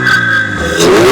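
A Toyota GR86 fitted with a K&N cold air intake revs loudly up close, holding a steady engine note before a rising rev at the end.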